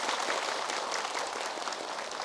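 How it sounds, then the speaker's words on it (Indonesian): Steady audience applause fills the room at a studio religious lecture on an Indonesian talk show, dense and even throughout with no voices over it. "Tepuk tangan boleh."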